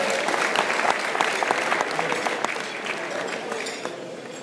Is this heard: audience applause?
yes